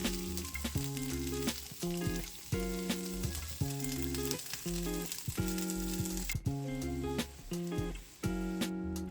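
Zucchini with minced garlic fries in a pan, sizzling softly and steadily under a prominent melodic music track.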